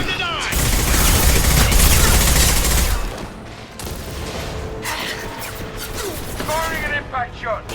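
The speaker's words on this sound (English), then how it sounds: "Firing an impact shot." An impact shot fired in Mass Effect 2 lands as a heavy, booming blast that rumbles for a few seconds, followed by lighter mechanical game sounds and faint whooshing effects.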